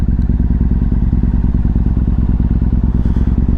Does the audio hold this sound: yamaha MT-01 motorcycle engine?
yes